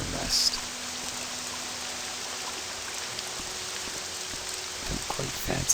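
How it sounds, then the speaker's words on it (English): A steady, even hiss of rain falls in Morrowind, broad and continuous, with a faint low hum beneath it and a few soft bumps near the end. "Don't quite fancy being out in the rain like this."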